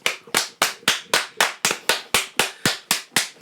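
About a dozen single hand claps ring out close and loud in an even, steady rhythm, each one sharp and crisp.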